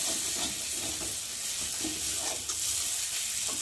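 Steady sizzling of spices frying in a hot pan with occasional stirring scrapes, close and continuous, no voices.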